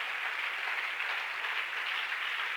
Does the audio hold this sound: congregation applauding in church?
yes